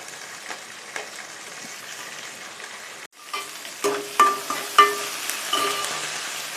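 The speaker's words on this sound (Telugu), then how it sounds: "ఇవన్నీ వేసుకొని ఒకసారి కలుపుకొని కొంచెం లైట్గా దూరగా వేయించుకోవాలి" Spices and ingredients lightly frying in a pan give a soft hiss that briefly cuts out, then returns with stirring scrapes and light clinks over a steady sizzle, close and fairly quiet.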